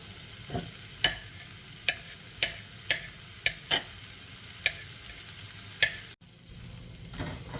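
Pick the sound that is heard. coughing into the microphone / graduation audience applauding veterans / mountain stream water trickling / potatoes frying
potatoes frying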